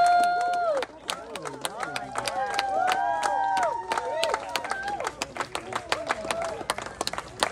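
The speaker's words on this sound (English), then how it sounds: "Family, the faster you clap, the higher you climb." Luau audience claps fast and cheers as a performer climbs a tree, loud rhythmic clapping mixed with whoops and shouts, while a voice talks over the crowd and a tonal sound rises and falls early on.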